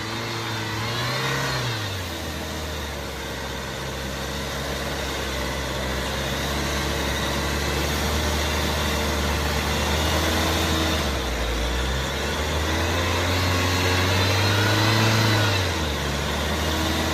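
A Jeep Wrangler off-road vehicle on large tyres climbs a rough dirt slope, its engine droning steadily and close with swells of revving throughout.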